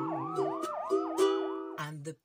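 A short siren effect wails in rising and falling sweeps over a steady tonal backing, fairly close and clear, then cuts off abruptly.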